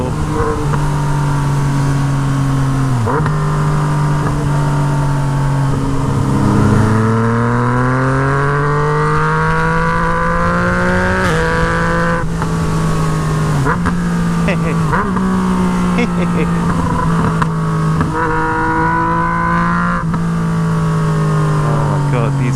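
A Yamaha MT-09 motorcycle with a straight-pipe Toce exhaust revs and rises in pitch through repeated throttle changes while riding on a road, with sharp pops on the overrun. The sound is loud and continuous throughout.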